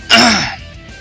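A person gives one short, sharp throat-clearing cough, loud and close, fading quickly into quiet.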